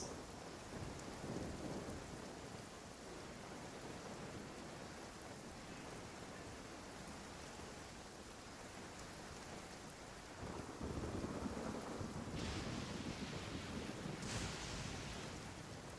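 Steady rain hisses throughout a Genshin Impact storm, with low thunder rumbling in the background and a louder surge of rumble near the end.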